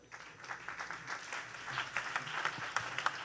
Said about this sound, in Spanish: que haya aplauso de Dios